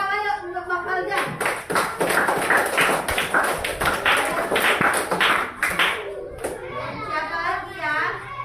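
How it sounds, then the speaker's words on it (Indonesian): Elementary school pupils in a classroom break into a burst of hand clapping lasting several seconds, mixed with children's voices and an adult talking, then the applause thins out. "Oke, tepuk tangan yuk untuk Bang Falja."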